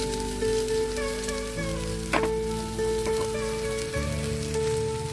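Chopped onion and green chilli fry lightly in a pan with a steady close sizzle and crackle over a constant low hum, with a few brief clinks partway through.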